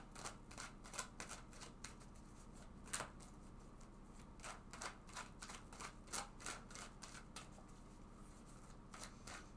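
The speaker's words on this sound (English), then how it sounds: "let's go ahead and shuffle this deck several times." Tarot cards shuffled repeatedly in quick, crisp riffles and flicks, close and steady throughout, with no talking.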